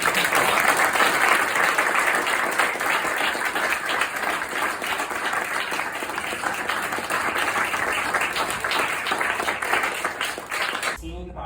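An audience claps steadily to welcome a speaker at a talk about a historic district, a sustained wash of applause that cuts off abruptly at the end.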